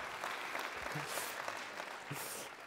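A live audience claps steadily and fairly loudly throughout at a New Year's greetings event in a French town, with no talk over the applause.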